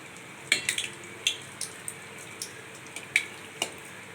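Banana paniyaram batter, poured a small ladleful at a time into a paniyaram pan, deep-fries over a low flame with a soft steady sizzle, punctuated by scattered light metallic clinks and taps of a utensil.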